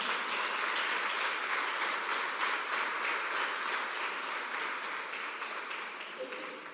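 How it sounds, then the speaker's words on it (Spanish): A church congregation claps loudly and steadily for several seconds, a dense sustained wash of hands that tapers slightly toward the end. "Quiero que le des un fuerte aplauso al Señor."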